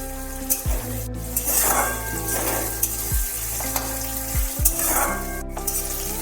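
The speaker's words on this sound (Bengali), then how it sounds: "সমস্ত মশলাকে ভালোভাবে একটু তেলের মধ্যে নেড়ে চেড়ে নিয়ে ভেজে নিতে হবে" Sesame seeds and spices sizzle in hot oil while being stirred, a steady frying hiss broken by repeated scraping strokes of a utensil against the pan, close and moderately loud.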